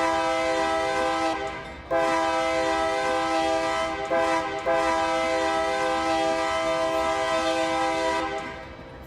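A Union Pacific 7312 GE AC6000 locomotive, built 1998, in a Roblox game sounds its multi-chime horn in long, loud blasts with brief breaks, over a low rumble of passing rail cars.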